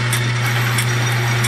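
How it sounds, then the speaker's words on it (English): A power drill boring a hole while making a toe shifter; a steady, loud motor whine with a constant low hum and faint rhythmic grinding bursts, running continuously without talk. "drill a little bit and then back up to clear the stuff out"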